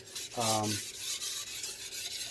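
A knife blade strokes across a DALSTRONG whetstone in short, close rasping scrapes, one stronger stroke followed by softer repeated rubs, with no talking.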